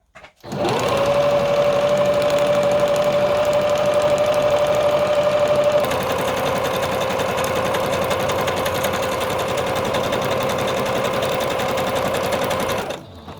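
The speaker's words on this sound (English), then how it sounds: "We're going to start with a zigzag stitch like I already started here and move from there." A sewing machine runs a zigzag stitch on a fabric collage, one loud steady motor whir that holds for about twelve seconds, its pitch dropping slightly midway, then stops abruptly.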